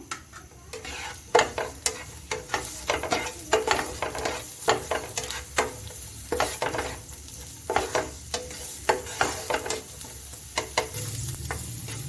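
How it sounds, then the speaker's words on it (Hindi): Onions and cumin sautéing in a pan for samosa stuffing: close, rhythmic scrapes and clatters of a spoon stirring against the pan over a steady frying sizzle, with no voices. "तो जीरे के साथ ही हम इसमें प्याज ऐड करते हैं और इनको जो है वो 1 मिनट के लिए हल्का सा भूनते हैं।"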